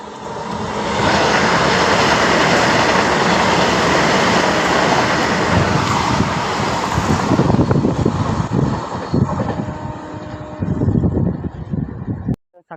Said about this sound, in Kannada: ಸಖತ್ತಾಗಿರೋ ಒಂದು Mangaluru central Madgaon Vande Bharat express cross ಆಯಿತು